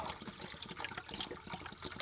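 Water splashes and pours briefly into a container, a close, steady liquid rush.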